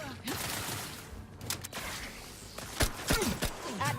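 Rapid gunfire in The Outer Worlds 2, several sharp shots and bursts clustered in the second half, with voices and game sounds mixed underneath.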